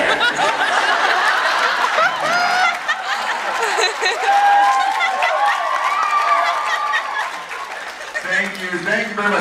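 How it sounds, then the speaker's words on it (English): Convention audience applauding and laughing during a celebrity panel at a fan convention in New Jersey, steady crowd noise with chuckles throughout and a voice talking near the end. "Round of applause."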